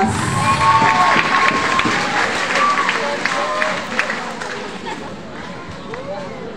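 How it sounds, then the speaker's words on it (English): Audience at a Mr and Miss IFSU 2022 pageant in Lamut, Ifugao breaks into loud, sustained applause mixed with cheering and shouts, tapering off gradually with voices in the crowd. "warm round of applause."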